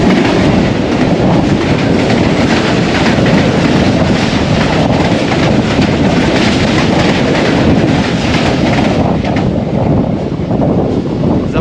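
Jaffar Express rushes past close by at a crossing in cold, foggy Punjab countryside, a loud continuous rumble with rattling wheels and wind buffeting throughout.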